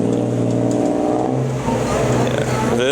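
A tuk-tuk engine revs loudly on a Bangkok street in Phrom Phong, its buzzing mid-pitched drone rising and falling near the listener amid traffic, with a voice talking faintly underneath.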